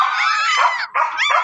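Motherless young puppies whimper and yip in loud, close, high-pitched wavering cries, one drawn-out whine broken by a brief gap and then more rising whimpers.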